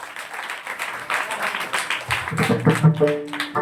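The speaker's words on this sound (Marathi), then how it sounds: "टाळ्या वाजवा" An audience claps together at a kirtan led by Pavan Maharaj Khandagale in Kelwad, a dense, steady patter of many hands that continues as sustained musical tones rise underneath toward the end.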